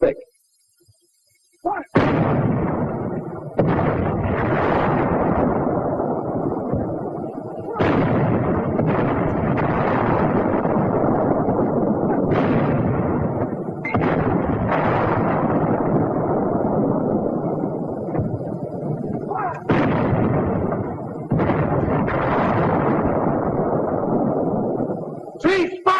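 Heavy WW2 infantry weapon shots against a four-foot-thick roadblock, a run of loud, booming blasts, each followed by a long rumbling roar, with a narrator speaking over parts of it.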